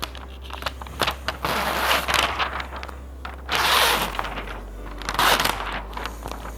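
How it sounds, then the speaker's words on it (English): Paint protection film being peeled back from a car hood during a pre-cut kit install, giving bursts of crackly, sticky tearing and rustling at close range, three louder pulls over a steady low hum, with no talking. "peel your film back"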